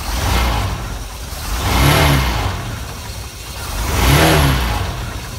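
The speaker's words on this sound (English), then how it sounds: "very quiet. Excellent running motor." A boat motor on a Harris Flote Dek Corso 180 pontoon runs steadily, its smooth mid-pitched drone swelling and easing twice in slow waves, heard close with no talking.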